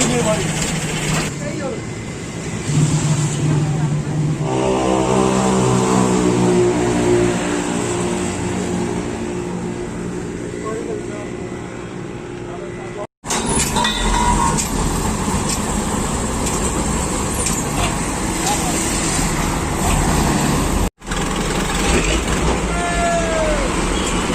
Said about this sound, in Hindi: ट्रैक्टर की मदद से गाड़ी को धक्का लगाया और अब गाड़ी स्टार्ट हो गई है